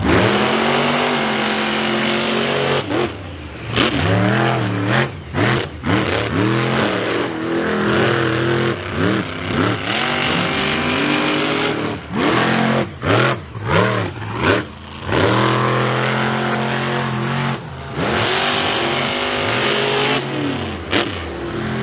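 Monster truck engines roar and rev repeatedly in surging bursts at a monster truck show race, loud and close, with brief drops between each throttle blast.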